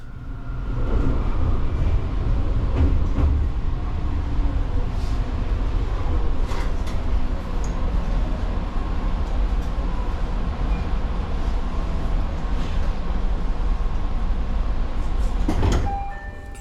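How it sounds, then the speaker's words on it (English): A Fujikyu Railway 6000 series three-car commuter EMU, a former JR East 205 series set, rolls along with a steady low rumble and rattle heard from inside. Occasional clunks and a brief squeal or chime sound near the end. "The Fujikyu 6000 series sets started life as JR East 205 series EMUs."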